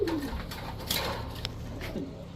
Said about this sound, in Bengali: এটা যে রবিডের কবুতর ওর ভাইব্রেশনে ও বলে দেয় ও হচ্ছে রবিডের কবুতর